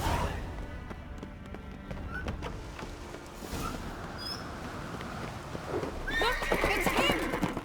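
Horses in The Witcher 3 neigh and clatter along at a gallop, hooves drumming through rough ambient noise, with a loud whinny near the end.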